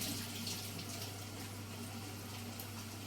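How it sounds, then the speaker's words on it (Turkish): Water gushes steadily into a pan of toasted rice and vermicelli during pilaf cooking, a continuous close pouring wash with no pauses. "şöyle kavrulan pirincimi ve şehriyem şöyle suyla bir buluşsun bakalım"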